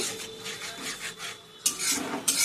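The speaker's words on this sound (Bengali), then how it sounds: "এবার আমি এটা একটু দিয়ে নাড়িয়ে নেব।" Ginger-garlic paste and chopped raw onion are stirred in a pan for katla fish bora, giving steady rhythmic rasping scrapes with a couple of sharper strokes near the end, no talk.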